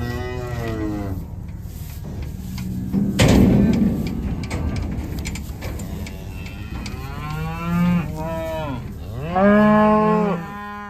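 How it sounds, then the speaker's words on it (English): Cattle on a farm on a snowy morning give several loud, drawn-out moos, some overlapping, spread across the stretch with quieter gaps and a brief bang between them. "Oh, cows."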